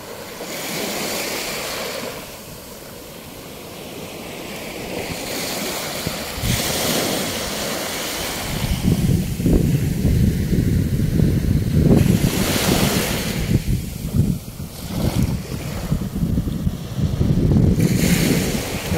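Sea waves break and wash along a beach, a steady surf roar swelling louder in the second half, mixed with gusty wind buffeting the microphone and no voices.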